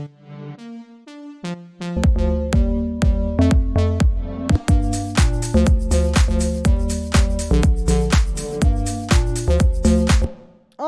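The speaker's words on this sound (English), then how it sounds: "So I'm going to copy that onto the synth lead, and that sounds like this." Future house synth lead with an automated reverb sweep and a deep digital FM character, playing a bright, rhythmic plucked melody of many quick notes after a softer opening phrase, loud and alone.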